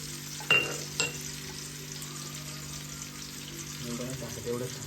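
Onion, garlic and ginger fry in a pan with a steady, moderate sizzle, broken by a couple of sharp clanks early on and faint stirring later.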